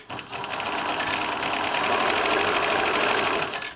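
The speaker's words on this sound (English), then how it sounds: "just do a few stitches on the bottom bar" A Bernina Nova 900 electronic sewing machine stitches the bottom bar of a buttonhole, a fast, steady mechanical whir with rapid even needle strokes running without pause, close and alone.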